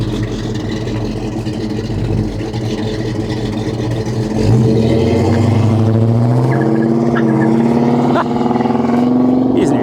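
A 1971 Pontiac LeMans T-37 V8 roars past, its exhaust climbing in pitch as it pulls hard through the gears, loud and near, with voices talking over it.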